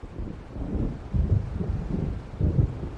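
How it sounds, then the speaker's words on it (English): Thunder from an approaching storm in the Alan Wake video game rolls low and rumbling in several swelling waves, mixed with wind, with no talk. "It seems there's a storm coming."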